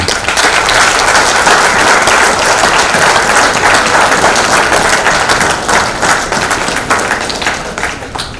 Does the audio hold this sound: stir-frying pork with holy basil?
no